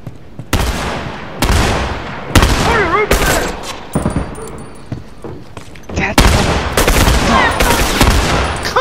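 Gunfire from The Last of Us Remastered comes in repeated loud bursts and sharp shots, with rapid volleys separated by brief gaps, forceful and close throughout.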